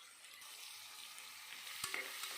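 Onions sauté in a pressure cooker for mutton thokku with a faint, even sizzle and one brief knock of a spoon against the metal.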